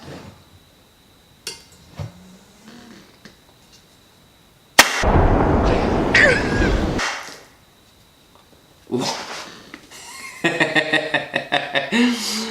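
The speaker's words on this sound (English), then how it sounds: "So we had an awesome explosion." A sudden sharp bang as a beer bottle explodes, followed by a loud hissing, fizzing spray for about two seconds, then scattered clinks and rattling as debris settles.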